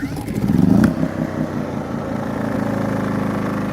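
A Champion C2500iS inverter generator runs close by. Its engine surges louder for the first second, then settles into a steady, buzzing hum.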